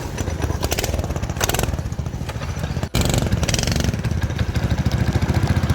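A mini bike engine idling in a steady, rapid chugging pulse, loud and close, with a brief dropout midway before the same rough idle continues.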